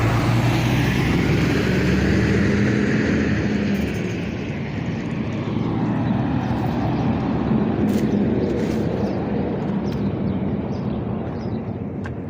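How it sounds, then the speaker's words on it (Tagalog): A truck rumbles past on a roadside nearby, a loud continuous engine roar that slowly fades, with steady road noise throughout. "maingay dito guys kasi sa tabi lang to ng kalsada ayan dumadaan yung truck dito"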